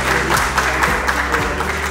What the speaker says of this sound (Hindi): मैं चाहूंगा एक बार जोरदार तालियां होनी चाहिए प्लीज NIST के लिए